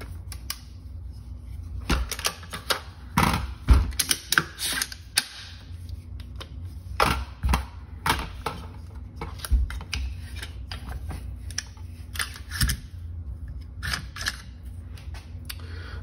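Metal parts of a Sig Sauer 516 rifle's bolt carrier clicking and scraping as it is opened, a series of sharp close clacks and rattles spread through a quiet room with no talk.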